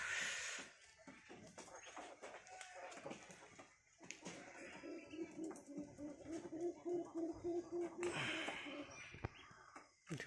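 Pigeons coo softly from inside their coop as it is opened, with quiet shuffling and door movement around them. A low voice is heard nearby, and the whole scene is faint.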